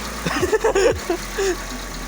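A Hyundai car engine idles with a low, steady rumble and a light valve rattle, while voices talk briefly over it.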